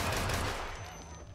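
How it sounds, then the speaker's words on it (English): Rapid, dense gunfire in Hitman on a yacht, loud and continuous at first, then thinning out slightly toward the end. "just satisfying gunfire this time"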